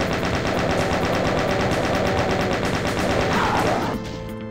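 Chaingunner enemies in a Doom map blast rapid, continuous machine-gun fire, loud and relentless, cutting off abruptly near the end.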